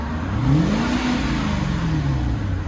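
A bone-stock 2002 Lexus SC430 with its 4.3L V8 and factory exhaust revs up and settles, a smooth, fairly quiet rising-and-falling engine note held steady close by, with no talking.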